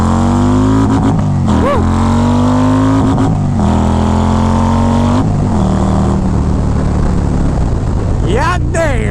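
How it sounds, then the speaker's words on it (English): Brand-new Harley-Davidson Road Glide with a 135 engine (2.2 liter) revs hard and loud up to the rev limiter several times, rising and falling throttle bursts with a rider's whoop near the end. "you guys heard me hit the rev limiter there a couple times"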